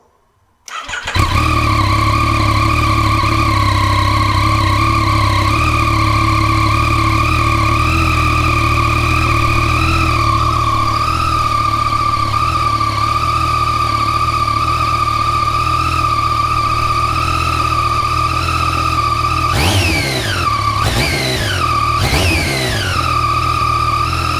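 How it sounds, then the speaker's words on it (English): A Yamaha FZ-09 motorcycle on its stock exhaust fires up from cold and settles into a loud, steady, close idle, with a few sharp throttle blips near the end. "we'll just do a cold start for the stock exhaust"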